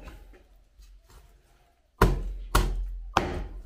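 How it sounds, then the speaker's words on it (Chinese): A whole chicken is hacked with a dull knife on a wooden cutting board: after a quiet stretch come three heavy, close thuds about half a second apart. "这刀不行哈，刀快的话两下就剁好"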